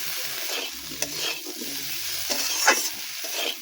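Banana flower fries with salt and turmeric in a pan, giving a close, bright sizzle with brisk stirring strokes and a few sharp scrapes, no voices.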